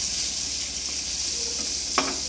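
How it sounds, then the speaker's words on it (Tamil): Garlic sautéing in butter for butter chicken fried rice, a steady soft sizzle with a brief scrape of stirring near the end, no voices. "அந்த பட்டரோட அந்த பூண்டை அப்படியே வணக்கும்போது ஒரு நல்ல அரோமா கிடைக்கும்"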